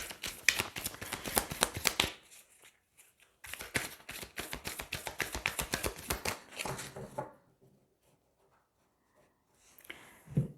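Tarot cards being shuffled by hand in two long bursts of quick, crisp riffling flutters, close and fairly loud, separated by a short pause, then near silence before a brief final rustle.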